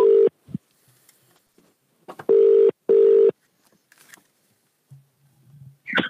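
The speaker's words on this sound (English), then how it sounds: "let's see if he picks up the phone." An outgoing telephone call rings out with three loud, steady ringback tones, the first short and then two longer bursts, separated by gaps with faint line noise and a brief murmur near the end.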